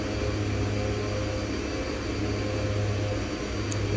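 Steady, even jet engine drone from an airliner on approach with power pulled back and flaps extending in the X-Plane 11 flight simulator, a constant near hum filling the whole stretch with no talk over it.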